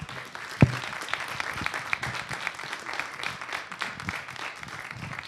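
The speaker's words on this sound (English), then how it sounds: "Can we give one more round of applause for Joel and Tory?" Audience applause at an evening book event, a steady wash of many hands clapping at moderate level for the full stretch, with one sharp louder knock near the start.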